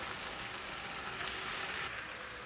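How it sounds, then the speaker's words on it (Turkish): Zucchini dish sautéing in a pan while being stirred, a steady, dense sizzle and crackle that continues without break and without talk. "Hala kavuruyorum kızlar çevire çevire kavuruyorum."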